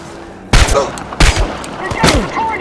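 Loud bursts of gunfire ring out in the PS4 game Chernobylite, three heavy volleys in quick succession with shouted voices between and over them.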